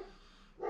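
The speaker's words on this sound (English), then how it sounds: "sorry about my dog" A dog barks briefly near the end, a short loud burst after a quiet stretch, heard indoors.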